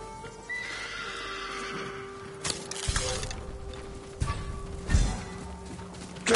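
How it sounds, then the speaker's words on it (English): Samurai horses at the stables in Ghost of Tsushima whinny and neigh loudly, with hoof clip-clops and stamping in bursts, heard alone without talk. "Samurai horses. The few we didn't take into battle."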